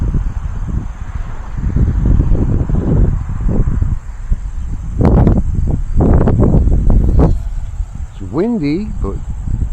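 Wind at about 8 mph on a windy day buffets the microphone in uneven roaring gusts during the maiden flight of a UMX Ultrix model plane, with a faint wavering whine near the end.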